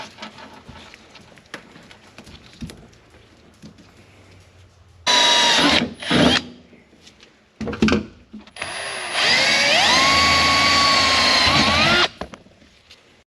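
Power drill driving screws into panels on a 1992 Firebird, two loud bursts of whirring with a rising pitch as each screw seats, separated by brief short pulses, against a quiet garage background.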